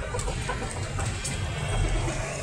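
A country hen brooding on a clutch of eggs gives low, steady clucks close by, set against a constant broadband background hiss, with no talk.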